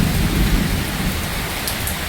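Heavy night rain pours down in a dense, continuous roar while low thunder rumbles underneath during a storm, with no voices.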